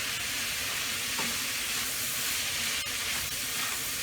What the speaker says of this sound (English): So now I'm just going to let that sausage cook all the way through